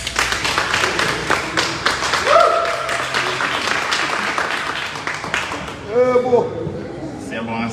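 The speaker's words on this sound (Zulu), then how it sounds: "Cela simshayele ihlombe." A gathered audience claps in applause for a speaker at a family event, dense broadband patter lasting several seconds and fading toward the end as voices and other sounds take over.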